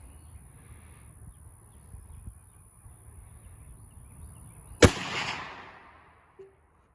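A single loud, close rifle shot from a .45-70 Government with an 18.5-inch barrel, firing Winchester 300-grain jacketed hollow point rounds, cracks sharply out of near-silence and echoes away over about a second.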